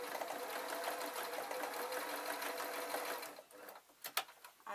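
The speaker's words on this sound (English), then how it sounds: "So I'm just going to do a little bit of free sewing on the back just to make a pattern." A sewing machine free sewing a pattern onto the back of a fabric scissor case, running as a rapid, even, close mechanical chatter before it slows into a few separate stitches and stops.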